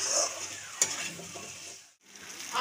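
Potatoes fry in oily spice paste while being stirred, a soft close sizzle with a sharp utensil clink near the start and a brief drop to near silence before the frying resumes.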